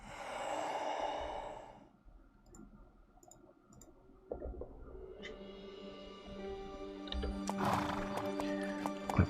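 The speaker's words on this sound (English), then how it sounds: "Clip clop, clip clop." Horse hooves clip-clopping in the fantasy strategy game Master of Magic, heard after a loud horse whinny and breathing; the hoofbeats and clicking continue at moderate level through the rest, with no talk.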